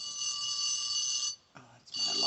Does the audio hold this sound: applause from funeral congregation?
no